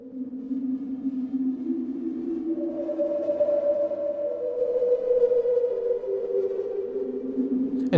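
Soft, sustained synthesized sine-wave tones from a Nord Drum 3P glide and overlap in a calm, hovering ambient pad, steady in level with no voices.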